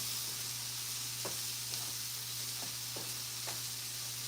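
Chopped onions and celery fry in a pan during Thanksgiving cooking, giving a steady, close hiss with a few faint pops and stirring clicks and no talking.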